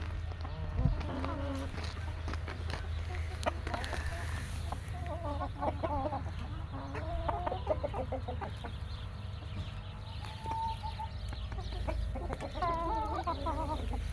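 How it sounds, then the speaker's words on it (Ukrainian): Silkie hens clucking and young Silkie roosters attempting crows amid a steady low hum and buzzing insects, several birds calling at moderate distance. "Шовкові вже півники кукарікають вже практично всі."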